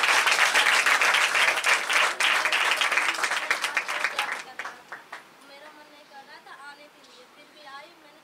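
A congregation at a healing and deliverance church service claps loudly for about four seconds, then the applause fades out as a person begins talking.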